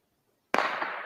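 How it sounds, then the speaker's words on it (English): A single sharp gunshot cracks out of silence in a forest and rings into a long, fading echo, heard through a played recording. "I think that was a gunshot."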